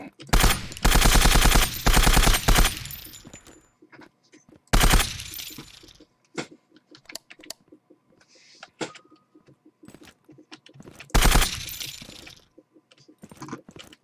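Loud bursts of gunfire from the Santa Claus gun in the video game Zero Sievert, three heavy volleys separated by quieter game noises and clicks, with no talking.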